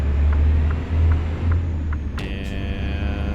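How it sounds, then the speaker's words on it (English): A Freightliner Cascadia truck in American Truck Simulator, its low diesel drone pulsing through a series of gear shifts, followed by a brief high electronic chime near the end. "Freightliner Cascadia shifting some gears here"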